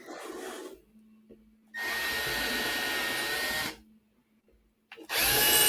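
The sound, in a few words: power drill pre-drilling holes in a birdhouse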